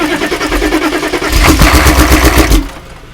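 A Weasel vehicle engine with glow plugs cranks loudly up close, catches and runs roughly with a deep throbbing rumble for about a second, then cuts off.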